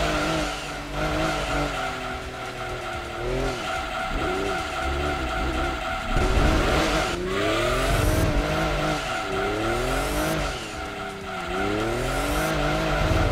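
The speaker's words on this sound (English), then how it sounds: "See, I can get the tire to spin, which is good." A Lexus SC 300 drifts in Gran Turismo 2, its tires spinning and squealing in long, wavering screeches over a steady engine drone. The sound is loud and continuous, with repeated swoops in pitch and no talk.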